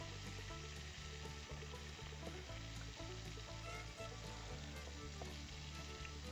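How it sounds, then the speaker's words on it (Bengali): Prawns frying in oil in a pan, a dense, continuous crackling sizzle heard close up and fairly quiet, with soft stirring scrapes at a regular rhythm and no talking. "চিংড়ি মাছগুলো আমাদের হালকা করে ভাজা হয়ে গেছে,"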